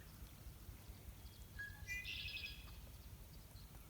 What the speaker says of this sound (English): Just listen to the birds singing.